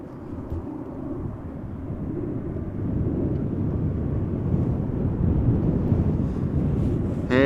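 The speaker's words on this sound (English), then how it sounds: "Next up will be Speedbird flight 430 arriving from London Heathrow A320" An Airbus A320 arriving at Amsterdam Schiphol makes a steady, broad jet roar that builds and holds loud as it comes close, with rumbling wind-like noise and no voices.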